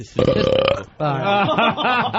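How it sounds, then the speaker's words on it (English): A long, loud, voiced burp rolls out, followed by a second deep, drawn-out belch with a wavering, gurgling pitch. "Mayo burp."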